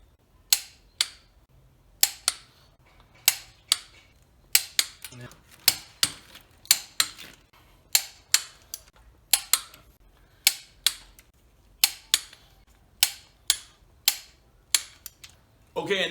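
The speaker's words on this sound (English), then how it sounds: "It's funny how those bolts can get kind of loose when you're torquing the other one." A torque wrench tightens intake manifold bolts in sequence on GT40 heads, sounding as a string of sharp, close metallic clicks in quick pairs and bursts against a quiet background.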